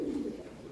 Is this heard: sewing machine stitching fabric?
no